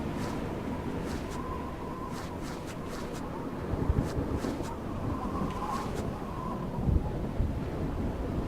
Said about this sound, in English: Especially because I got all this fucking wind